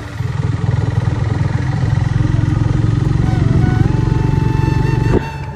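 A motorcycle engine runs close by with a loud, steady pulsing throb, then cuts off abruptly near the end.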